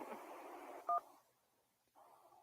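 Telephone line tones as a caller connects to a radio call-in show: a brief two-tone dial beep sounds after fading voice, followed by a quiet gap and then low line noise.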